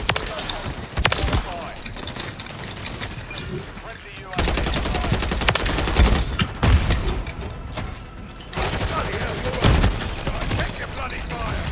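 Shotgun and other gunfire in a shooter video game crack in rapid, dense bursts of overlapping shots, loud and close, continuing in waves across the stretch with brief lulls.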